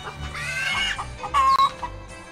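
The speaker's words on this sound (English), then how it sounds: "We got those damn pesky chickens following us again." Chickens cluck in the farming video game Agricultural Simulator 2013, with several close, busy clucks and a sharp squawk near the middle of the short stretch.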